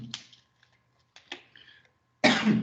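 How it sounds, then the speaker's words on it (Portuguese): A person coughs a few times, with short bursts and a throat-clearing sound separated by quiet pauses, followed by a louder, harsher cough at the end, close and alone. "Eu estava segurando essa tosse."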